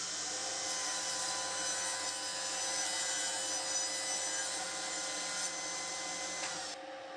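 A table saw running with a panel sled trims the edge of an end grain cutting board panel, a sustained high whine with blade cutting noise, close and steady, ending abruptly as the cut finishes.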